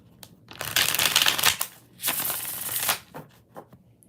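A tarot deck is shuffled in two long riffling bursts, close and crisp, followed by a few soft taps as the cards settle, with no talk.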